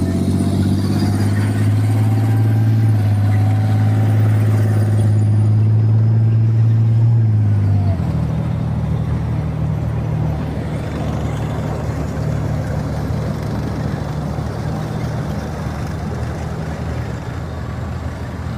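A British Challenger 1 tank's engine runs at a tank museum show, a loud, heavy, steady drone whose pitch drops partway through and settles into a lower, rougher rumble.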